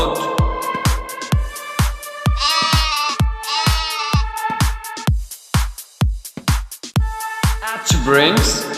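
A goat bleats in two wavering, quavering calls near the start, then once more at the end, loud and close over a bouncy percussion beat from a children's song.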